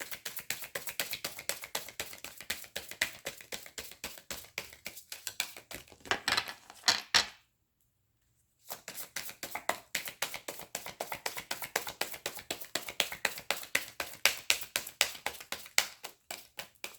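A deck of cards being shuffled over and over in quick riffling bursts, close and fairly loud, with a short pause of silence partway through before the rapid shuffling resumes.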